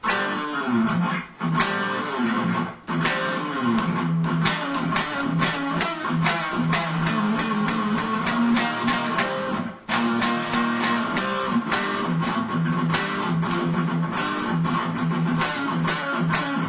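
A driving, distorted electric guitar metal chorus riff with pounding drums plays loud and continuous, with brief drops in the rhythm; no voices.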